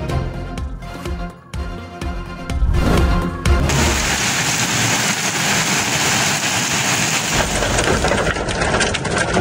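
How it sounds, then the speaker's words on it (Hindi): A heavy downpour with thunder falls across Lahore and Punjab cities. Scattered rumbles give way to a dense, continuous roar of rain hammering on surfaces. "लाहौर समेत पंजाब के मुख्तलिफ शहरों में मूसलाधार बारिश और यालाबारी"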